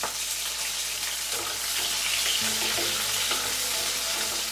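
Onions sizzle in hot oil with dried red chillies and green chillies for a Chettinad fish curry, a steady bright frying hiss with a few stirring scrapes, close and continuous without speech.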